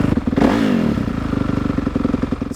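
A dirt bike with a Rekluse clutch, sitting in neutral, is revved hard past 5,000 RPM. A loud, close, pulsing engine climbs in pitch, then settles into a fast, steady, rattling idle-to-mid-rev throb.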